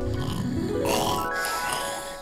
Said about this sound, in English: Ah, he snores so loud.